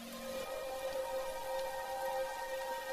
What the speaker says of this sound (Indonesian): malam harinya memperlihatkan Mi Jong yang masih menikmati dan melihati indahnya hujan.